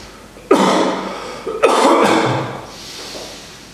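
Two sharp, forceful coughs close to the microphone, the second following about a second after the first, with a faint breath trailing off afterward.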